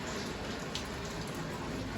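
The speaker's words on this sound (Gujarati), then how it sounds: "જુઓ કે વરસાદ કેવો આવે" Steady rain falls outside in a continuous hiss with pattering drops, close and even throughout, with no voices.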